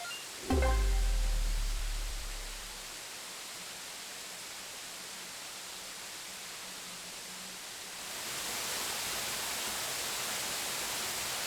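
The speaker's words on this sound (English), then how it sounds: "the trail opens up to a wide 50-foot cascade stretching across 75 feet of sandstone and clay." Yellow Branch Falls, a wide 50-foot cascade over sandstone and clay in Sumter National Forest, gives a steady, soft, hissing rush of falling water that swells slightly louder toward the end after a brief low thump at the start.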